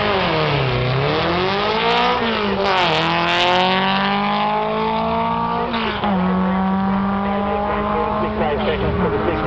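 A Volkswagen drag car, the Aussie Inch Pincher, launches at a VW drag meet in Warwick, its engine screaming up through several rising gear changes with tire squeal, loud and close, then fading as it runs down the strip.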